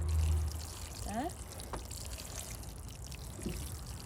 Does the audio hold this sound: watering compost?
yes